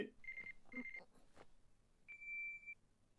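An anime pager beeps in short electronic tones, two quick beeps followed by a longer held beep, clear and isolated over a faint background.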